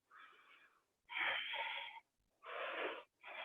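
Slow deep yoga breaths, three long, loud airy exhalations and inhalations with short silent gaps between them, close and alone without talk.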